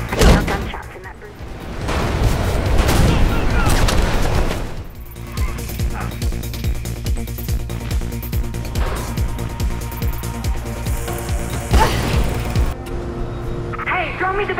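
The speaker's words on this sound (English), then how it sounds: "I can hear gunshots in that" Dense, loud video game soundscape from Mirror's Edge with repeated sharp bursts of gunfire, broadband blasts and a constant low rumble, continuing throughout.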